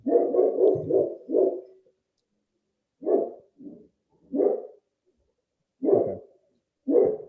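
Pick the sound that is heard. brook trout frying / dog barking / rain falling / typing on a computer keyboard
dog barking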